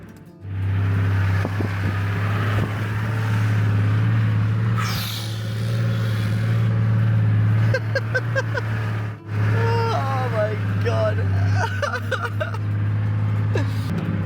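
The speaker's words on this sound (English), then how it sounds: "should have no problem in my machine if I let it crawl up in low range" A 4x4 vehicle crawling up a mountain pass in low range first gear, its engine droning low and steady up close, with a brief dip, some clattering and creaking, and occasional voices talking over it.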